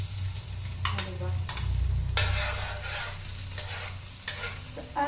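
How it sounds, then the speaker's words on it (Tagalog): Garlic and onion sautéing in a pan for menudo, a close bright sizzle punctuated by repeated bursts of scraping and stirring over a low background hum, with no talking. "gigisa natin yung bawang at sibuyas"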